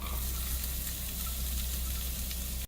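Onions sizzling steadily in hot olive oil in a pan, a close, even hiss and crackle with no talking over it.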